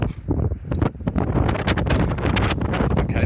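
Strong wind buffets the microphone in loud, gusty bursts of roaring noise beside a 2011 Volkswagen Golf Mk6, with a few thumps and rustles mixed in.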